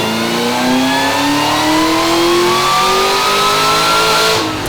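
A Camaro ZL1 engine revs steadily upward under heavy load on a dyno, its loud, rising drone climbing in pitch for several seconds before easing off.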